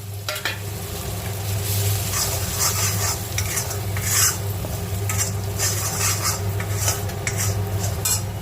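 Ginger paste with chili, turmeric, coriander and cumin powders sizzles in hot oil while a spoon scrapes and stirs it continuously, close and fairly loud, over a low steady hum.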